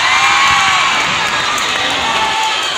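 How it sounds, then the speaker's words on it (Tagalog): A crowd at a Bonchon restaurant event in a Robinsons mall shouts and cheers loudly, a steady roar of high excited voices and scattered whoops throughout. "At lalong hindi po ako magsisimula hanggat walang sigawan"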